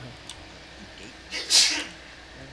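A single sharp sneeze bursts out near the middle, brief and fairly close, while voices talk over gaming chatter around it.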